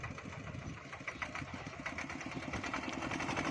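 Ferry boat engine idles at a river crossing pier, a quiet, steady mid-pitched chugging with a faint rhythmic knock, heard from a short distance with no voices.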